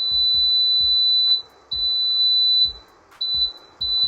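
Control panel buttons on an air fryer cooking sweet potato fries give four sustained electronic beeps, each a steady high tone, with short gaps and faint low knocks from the presses, close and clear with no talk.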